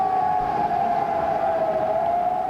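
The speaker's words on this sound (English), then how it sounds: "sirens sounded the order to evacuate" Civil defense evacuation sirens sounding during a river flood, a loud sustained steady wail holding one pitch throughout, with no voices over it.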